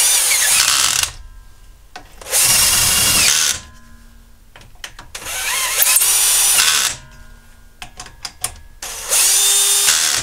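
A power tool drives fasteners while a car wheel is fitted after shock absorber work, firing in four loud, whirring bursts of about a second each, separated by quieter gaps with clinks and rattles of handled metal parts.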